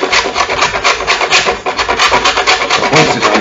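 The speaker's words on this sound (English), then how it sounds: "Hard work actually, grating lard" Hard block of lard being grated by hand, a steady rapid rasping scrape with rhythmic strokes, close and loud throughout.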